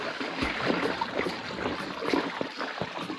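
An electric mountain bike rides through a stream on an off-road trail in the Northern Pennines, Cumbria, with continuous rushing and splashing water close by for a few seconds.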